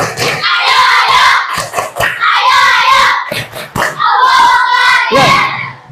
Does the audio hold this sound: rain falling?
no